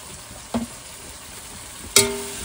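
Chopped ginger, garlic, onion and chilli hit a hot pan, a faint background sizzle with a brief clink and then a sharp, loud burst of frying as more goes in.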